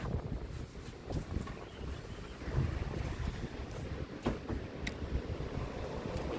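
Strong wind blows outdoors on a windy day in Kentucky, a steady, gusting roar that buffets the microphone throughout with no clear voices.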